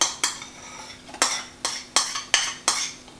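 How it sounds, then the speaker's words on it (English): Spoon spreading lemon curd over set cheesecake filling in a home kitchen: six sharp metallic scrapes and taps, evenly spaced, close and clear with no talk. "So all I'm going to do now is I'm going to spoon this, the curd,"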